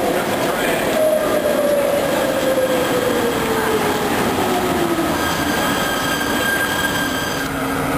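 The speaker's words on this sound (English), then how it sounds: "Here comes the train." A train rolls into a station in Kuala Lumpur with a long descending wheel squeal, steady rumble and rail clatter throughout, loud and close, with brake hiss toward the end.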